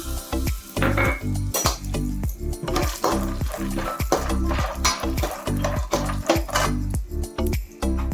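Peanuts roasting in a hot pan while being stirred, giving a steady run of dry rattling, scraping and clinking as the nuts and spoon strike the metal, loud and close, with no voices.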